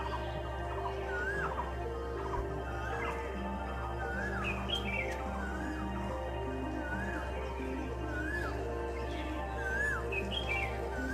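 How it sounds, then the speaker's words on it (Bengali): An Asian koel calls from around a rooftop in the morning, its rising whistled notes repeating at a moderate distance over a steady background hum. "কোকিল ডাকছে"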